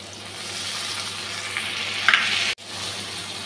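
Ground spices frying in a pan with already-fried onion and tomato give off a steady, close sizzle with a brief stirring scrape near the end before the sound cuts out abruptly.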